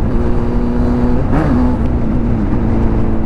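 A Honda Hornet engine in a CG motorcycle with a 2-into-1 exhaust drones on a highway, a loud continuous low rumble with a steady tonal hum that wavers slightly as the revs shift.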